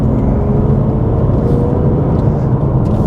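Steady low engine drone of a car climbing a hill past a crest, loud and close with even road rumble and no voices.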